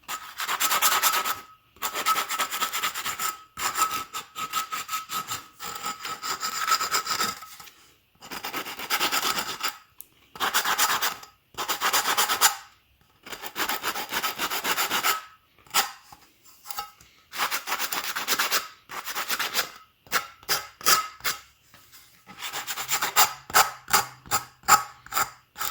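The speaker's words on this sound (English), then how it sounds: "just use a sanding disc to clean it up" A sanding disc rasps against a soft wood barn door in repeated bursts, scratchy rubbing strokes starting and stopping with short pauses, close and fairly loud, no talking.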